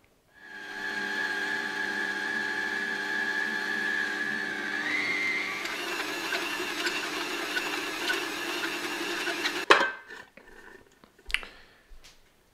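An electric mixer beats pizza dough for a wood-fired oven, a steady whirring hum that shifts pitch partway through, runs for several seconds, then stops, followed by a few faint clunks.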